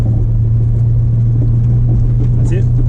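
Holden VS Commodore engine drones loudly and steadily with a deep hum, heard from close by inside the car while it gently picks up speed, with no clear talking over it.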